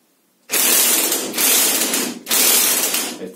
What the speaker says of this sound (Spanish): Y vamos a apretarla otra vez con la llave de impacto